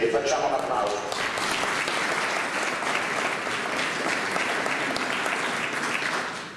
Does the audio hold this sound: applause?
yes